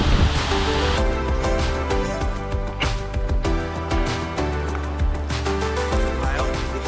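A waterfall in southern Brazil rushes in a steady, loud roar throughout, with a rainbow beneath the cascade; faint voices and scattered knocks sit under the water noise.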